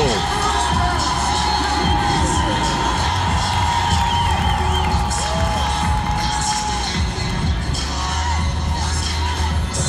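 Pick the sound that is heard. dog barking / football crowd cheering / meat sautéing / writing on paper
football crowd cheering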